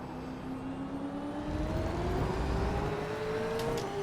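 A Gen 3 V8 Supercar in iRacing at Circuito de Jerez gives a loud, steady engine note that climbs gradually in pitch as it accelerates, alone and with no talk.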